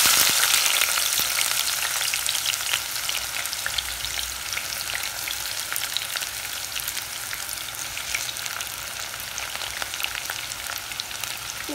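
Onions fry in hot oil in a pan, giving a dense, loud, steady sizzle with fine crackling throughout and no voices.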